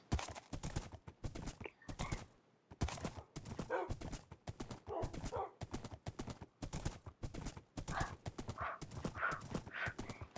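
Horse hooves clip-clopping in a steady rhythmic gait in a Minecraft-style game, close and clear, with a faint whinny now and then and no talk over them.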